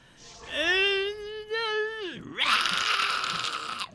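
A man imitates the cartoon baby Tommy Pickles crying, with a long, wavering, high-pitched wail that bends downward, followed by a harsher, raspy screaming cry, all loud and close.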